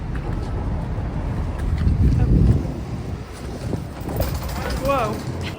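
Cold wind buffeting a microphone on a wet winter street in Chicago, a continuous loud low rumble that swells and eases, with faint voices beneath it.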